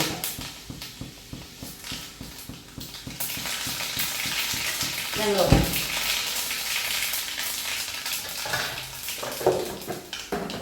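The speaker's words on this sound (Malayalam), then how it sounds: "ഇതിലേക്ക് നമുക്ക് കുറച്ച് ഉലുവയും കടുകും കൂടി ഇട്ട്" Mustard and fenugreek seeds fry in hot oil in a pan for a pineapple and grape moru curry, starting with rhythmic stirring clicks and then a loud, steady sizzle with a clattering utensil. A voice speaks briefly.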